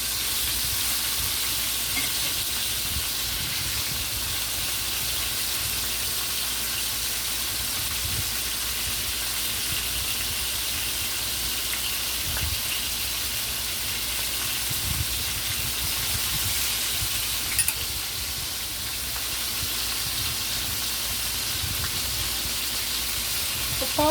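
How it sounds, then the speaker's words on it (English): Fish fries in a pot for brown stew fish, giving a loud, dense, continuous sizzle and hiss that stays steady throughout, with no voices. "I'm just going to finish fry the fish"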